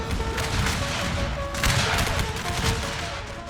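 Musket volleys from massed Civil War line infantry in the strategy game Total War Shogun 2 crackle as a dense, continuous fusillade of overlapping shots. A louder burst comes midway, and no voices are heard.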